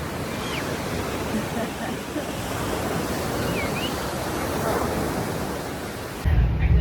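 Steady roar of ocean surf washing onto a beach at Wilmington, North Carolina, broad and continuous, with a few faint bird calls above and a brief burst of wind at the end.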